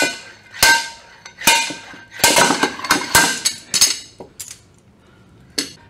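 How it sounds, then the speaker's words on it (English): A slide hammer drives a pilot bearing puller during a ZF S5-42 transmission teardown, giving a series of sharp metallic clanks, about eight loud strikes in an uneven rhythm with ringing decay, close up. "This is a pilot bearing puller, and then this is a slide hammer."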